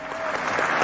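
Applause sound effect, a dense steady wash of clapping that runs continuously at moderate level for under a second, with no voices.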